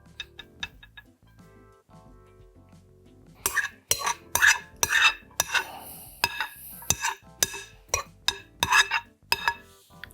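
Coleslaw spooned and scraped from a mixing bowl into a serving bowl, first a few light taps, then a run of loud, close clinks and scrapes of utensil against dish, with no talking.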